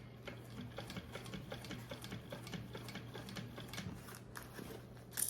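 Sewing machine stitching the gusset of a mini backpack, a steady rapid mechanical ticking hum running continuously and quietly throughout, with no talking.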